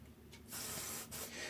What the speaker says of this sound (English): So you want to spray this just along the edge, and what that'll do is it'll start to soften up the adhesive.